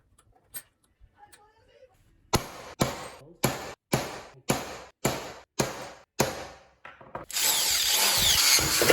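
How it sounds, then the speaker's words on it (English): Drill bursts through aluminium stock while making bolt holes for a Brompton bicycle front bucket clamp: several short, loud drilling pulses in a steady rhythm, then a sustained harsher run of the drill at the end. "So we'll drill 2 holes, and the bolts will go straight through the aluminium"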